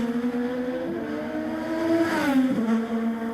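An IndyCar race car pulling out of the pits during qualifying at the 2017 Honda Indy Toronto, its engine droning at a steady pitch, then dipping and rising again, fairly near and without talk.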